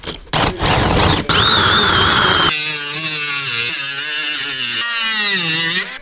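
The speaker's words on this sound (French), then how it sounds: "mon père est en train de découper le gabarit pour le collecteur d'échappement" A power tool cuts through sheet metal for an exhaust manifold template for a Lamborghini Murcielago rebuild, starting in choppy bursts and then holding a loud, steady, continuous whine with a shifting pitch.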